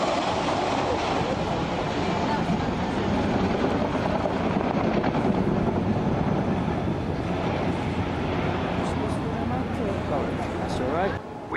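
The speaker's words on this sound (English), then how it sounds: "They operate the Chinook HC2, the 2A and the 3" A Chinook HC2 helicopter flying a display at the Dartmouth airshow, heard from a boat as a steady, loud, dense rotor roar that holds throughout, with a commentator's amplified voice over it.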